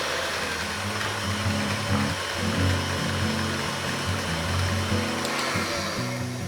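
An electric mixer creams pumpkin cookie dough on high speed. The motor gives a close, steady whir whose pitch wavers and shifts as it works, and no one speaks.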